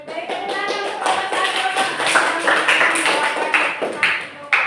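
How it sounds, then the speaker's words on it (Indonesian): A classroom group presentation draws applause: several people clap in a quick, uneven patter close by, continuing for a few seconds. "tepuk tangan untuk kelompok"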